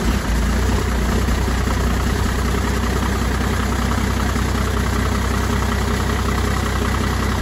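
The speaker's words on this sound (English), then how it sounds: "I'm wondering what a cold start is like with just one battery." A 1998 12-valve Cummins diesel engine runs steadily after a cold start on one battery, a loud, continuous low rumble with no talk over it.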